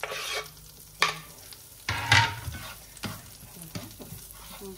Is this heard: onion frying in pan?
yes